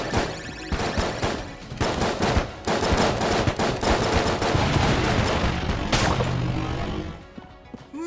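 Dual pistols fired by a mimic enemy in Enter the Gungeon, rapid rattling bursts of game gunfire with crashing impacts, loud and dense for several seconds before tailing off.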